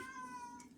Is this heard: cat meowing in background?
yes